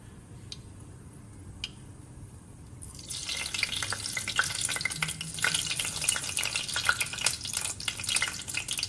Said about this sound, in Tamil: இப்போ பார்த்தீங்கன்னா கடுகு வந்து நல்லா பொரிஞ்சிருச்சிட்டு இருக்கு.